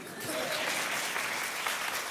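Dense crowd applause from a church congregation, steady and moderately distant, filling the whole couple of seconds.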